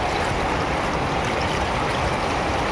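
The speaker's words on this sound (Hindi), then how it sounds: "नदी की आवाज़" A snow-fed mountain river in Uttarakhand, India rushes loudly and constantly nearby, a dense unbroken wash of flowing water with no other sounds.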